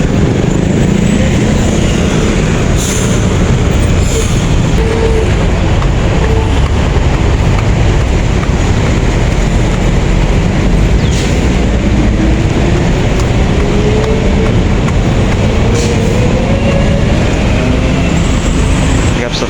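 BTS Green Line skytrain passing Wat Phra Sri Mahathat station in Bang Khen, Bangkok, a loud, continuous rumbling roar of the elevated train with faint whining tones, steady throughout, heard alone without talk.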